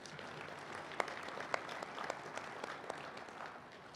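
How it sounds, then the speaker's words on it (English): An audience at a conservation districts annual meeting closing session gives a sustained round of applause, a dense, even patter of many hands with a few sharper claps standing out, carrying on throughout at moderate volume. "Please give Marissa another round of applause"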